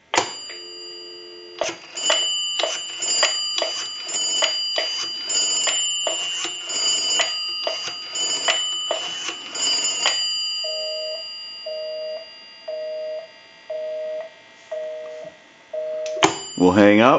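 Telephone tones on a Northern Electric three-slot payphone ring out in repeated beeps, then switch to the short, evenly spaced pulses of a busy signal, clear and close.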